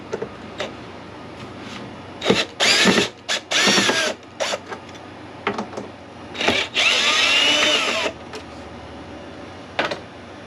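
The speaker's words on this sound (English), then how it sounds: "We're going to do that by taking out these screws that hold this piece on." Screws come out of the rear panel of a portable ice maker with a ratcheting power driver, giving several loud whirring bursts of a second or so each, separated by quieter handling noise.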